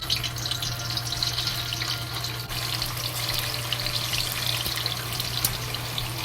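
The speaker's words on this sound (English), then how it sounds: "The oil seems ready, then we will fry the tofu." Tofu fries in hot oil with a steady, dense sizzle and crackle that holds evenly throughout, close and constant with no talking.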